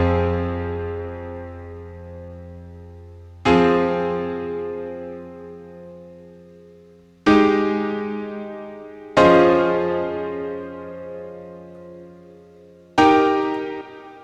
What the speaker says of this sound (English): But first we need some lush chords.